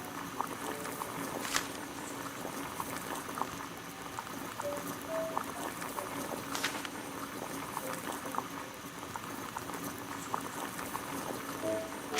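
A kettle of water boils over a gas burner in a Sherlock Holmes game, a steady close bubbling rumble with faint occasional clicks, no voices.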